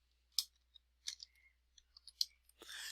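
Sharp computer mouse clicks, about five or six scattered and irregular, each crisp and close, separated by quiet pauses while someone works in form boxes on a computer, followed by a short burst of brighter noise at the end.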